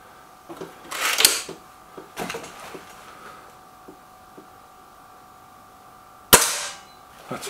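A Kral Devil air rifle and a Gamo Whisper Sting fire in a comparison test. Two sharp, loud cracks are spaced several seconds apart, with a smaller click and some handling noise between them and no talk.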